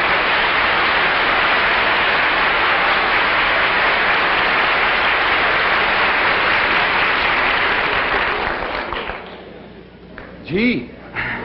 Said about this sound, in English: thank you very much for your wonderful applause